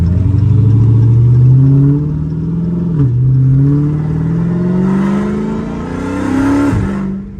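Dodge Charger Hellcat revving hard through second and third gear, a loud, deep engine roar with rising pitch sweeps and a brief gear-change dip, heard close from inside the cab with no talking.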